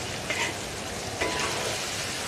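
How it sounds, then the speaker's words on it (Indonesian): Chicken frying in a pan gives a steady, close hiss of sizzling oil with a few brief louder crackles, and no talking. "Goreng ayam tak siap-siap."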